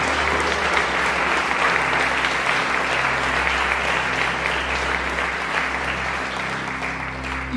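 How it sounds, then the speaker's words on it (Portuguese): Church congregation applauding at a sermon, a dense, sustained wash of many hands clapping at once, steady and loud for the whole stretch with a low hum underneath. "Pode aplaudir o Senhor Jesus."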